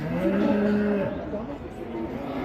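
Cattle kept for fattening and slaughter give a long, low, droning moo up close. Ambient farm noise sits underneath, and a fainter lowing trails off near the end.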